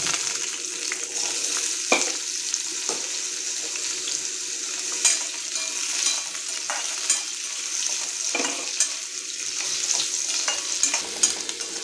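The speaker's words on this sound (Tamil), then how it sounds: "இப்போ இந்த பொட்டேட்டோவை நம்ம ஷாலோ ஃப்ரை பண்ண போகிறோம்." Potatoes shallow fry in a little cooking oil with a constant bright, close sizzle, broken now and then by stirring clinks and scrapes across nearly twelve seconds, with no talking.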